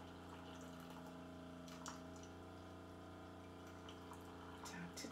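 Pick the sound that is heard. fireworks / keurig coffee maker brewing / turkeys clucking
keurig coffee maker brewing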